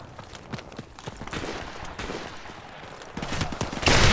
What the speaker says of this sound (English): Sounds like the kind of gun that will one-shot him.